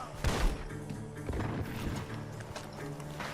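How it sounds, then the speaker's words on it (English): Gunfire and crashing impacts in Red Dead Redemption 2, shooting coming from a barn, with several sharp bursts over a busy backdrop of game sound and music. "The gunshots are coming from that barn."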